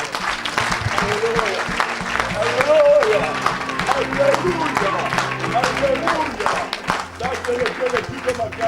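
A church congregation applauds and cheers, sustained loud clapping and crowd noise that rises and falls over several seconds, mixed with voices and tonal sound.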